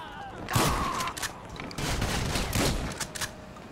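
Gunfire in the video game GTA V: several sharp, loud shots and bursts cracking in quick succession, close and punchy, with thuds and a faint voice between them.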